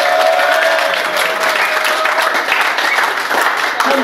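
Crowd applause for the local team captain at the opening ceremony of a French D3 final, dense sustained clapping from a sizable audience with a faint whistle-like tone early on.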